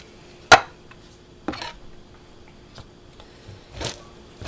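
A spoon mixes hash brown casserole with cream of mushroom soup in a dish: a few scattered clinks and scrapes with quiet pauses between them.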